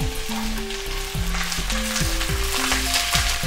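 Chopped onions sauté in a hot pan with oil for an Afghan cashew curry, giving a steady, close sizzle with repeated stirring scrapes and clatter throughout, and no voices.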